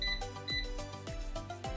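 An air fryer's control panel beeps as its time is set for cooking chicken taquitos: a quick series of short electronic tones with light clicks, close up.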